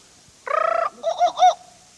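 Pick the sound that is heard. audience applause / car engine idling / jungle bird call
jungle bird call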